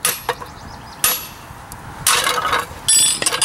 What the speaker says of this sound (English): you just get your chisel and you just give it a good whack or two